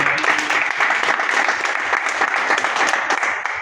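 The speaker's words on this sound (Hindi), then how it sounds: "एक बार जोरदार तालियों और अभिनंदन" A crowd at an organisational meeting gives loud applause for newly appointed office bearers, a thick, sustained wash of clapping from many people that fills the room without letting up.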